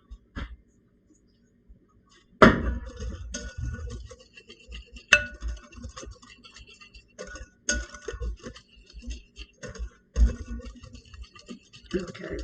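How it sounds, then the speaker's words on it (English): A whisk works through dry ingredients for a scratch-made chocolate meringue pie, close up: irregular clicks, taps and light scraping against the bowl, with a few sharper knocks and quiet gaps between. "I'm going to whisk those ingredients together and add just a dash of salt"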